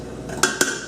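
Cooked apples being moved from one cooking pot to a taller pot, with two sharp metallic clanks of pots and utensils close by.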